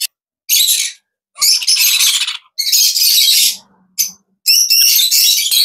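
Caged birds at the Tongi bird market call in loud, shrill bursts of chirps and squawks, five or six close-up outbursts separated by short silences, with no talk.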